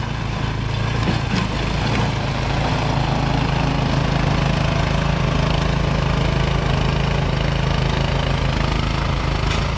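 A Troy-Bilt 2410 snow blower with a Powermore engine runs loud and close, a steady rough mid-pitched engine drone with mechanical clatter that continues unbroken for nearly ten seconds during storm cleanup.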